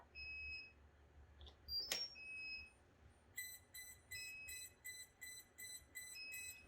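An agricultural drone beeps after power-on: a run of short, high electronic beeps in a quick, regular series, clear against a quiet background.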